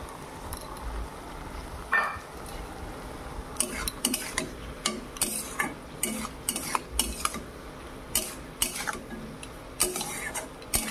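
Spices and masala for a Bengali fish curry are stirred and scraped in a pan, with a spatula giving repeated sharp metallic clinks and scrapes over a soft, steady sizzle, the strokes coming in an irregular rhythm close by.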